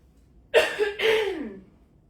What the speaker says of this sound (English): One moment, I'm just gonna cough.